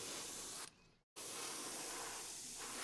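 Matte varnish sprayed from an aerosol can in a loud steady hiss, broken by a short drop and a brief silent gap, then resuming as a continuous close spray.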